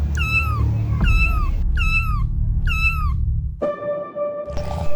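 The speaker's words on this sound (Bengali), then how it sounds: "বিড়াল ছানাটি সারা রাত তার মাকে ডাকতে থাকে।" Cartoon kitten meowing for its mother: four loud, close, high plaintive meows in an even rhythm, followed by a steady musical tone at the end.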